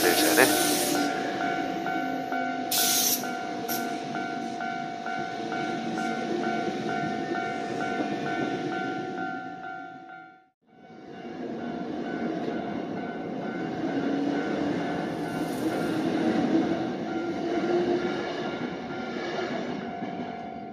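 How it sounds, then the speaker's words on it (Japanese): A Hankyu train rumbles past a level crossing near Koutoen station, loud and close, with steady wheel and motor roar, a sharp high squeal near the start and a brief gap midway before the noise resumes. "お、電車来た。"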